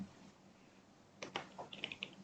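Code is being typed on a computer keyboard in a quiet stretch, close and fairly soft, in a short burst of uneven keystrokes and clicks, with no one speaking.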